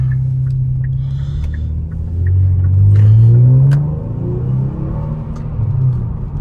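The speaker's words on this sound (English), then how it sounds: "So this is like the first sports car," A car engine rumbles low and swells in a couple of revs, close by, with faint clicks and ticks over the top.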